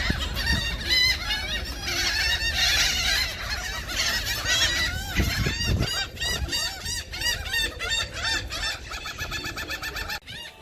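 A noisy flock of seagulls squawks and honks constantly in Freeport, overlapping harsh calls up close with no pause throughout.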